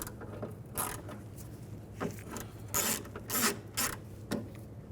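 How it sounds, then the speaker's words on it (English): A 10mm socket on a ratchet wrench backing out a bolt on a 2006-2010 BMW 550i front window regulator, several short bursts of quick ratcheting clicks separated by brief pauses, close and fairly quiet. "through the hole here, I'm going to use a 10mm socket"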